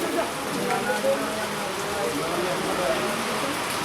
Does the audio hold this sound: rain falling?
yes